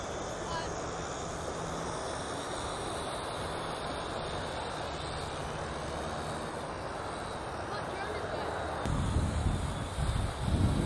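A small GoolRC T32 folding drone flies outdoors, facing back toward the pilot, with a steady high-pitched motor and propeller whine, buffeted by strong wind that grows louder and gusty near the end; a person talks over it.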